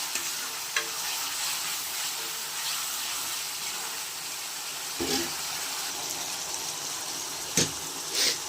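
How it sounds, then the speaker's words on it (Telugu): Ginger garlic paste fries in a pan for a country chicken curry, giving a steady, close sizzle with a few sharp scraping stir strokes near the end. "సో ఇప్పుడు అల్లం వెల్లుల్లి పేస్ట్ బాగా పచ్చి వాసన పోయేంత వరకు వేయించుకుందాం."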